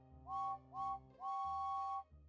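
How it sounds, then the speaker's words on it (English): A steam locomotive whistle sounds three times, two short blasts then a longer one, fairly clear against a low rumble. "James's whistle can be heard in the distance"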